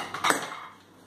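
A metal lid goes onto a pressure cooker while aloo pyaz sabzi is being made, with a short clatter and scrape of metal in the kitchen that fades quickly.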